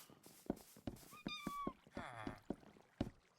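Cats in the video game Minecraft meow several times in quick succession, close and clear, with soft game ambience and splashy water-like sounds underneath.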